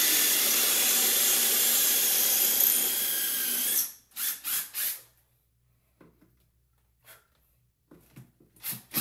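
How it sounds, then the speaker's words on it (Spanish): A power drill fitted with a tile bit bores a hole during a smart toilet installation, a loud steady whine for about four seconds that then breaks into a few short bursts and scattered quieter knocks. "para hacer el hoyo es una broca para tile"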